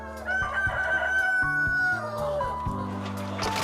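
Chickens and a rooster on a farm during egg collection, with a rooster crowing loudly over steady clucking from the flock, close and continuous.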